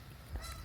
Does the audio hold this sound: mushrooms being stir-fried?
no